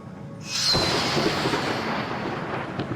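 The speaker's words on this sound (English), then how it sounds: "that was a lightning strike and an alien at the same time" A loud thunderclap from a lightning strike in a video game bursts in sharply and rolls on as a sustained rumble beneath a bright, sweeping sci-fi tone from an alien, with no talking.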